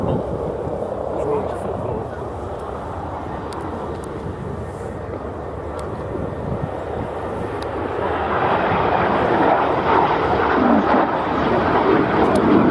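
A BAC Strikemaster or Jet Provost jet passes over Scampton at an air display, a broad roaring rumble that swells louder toward the end as it approaches, with a voice talking over it throughout.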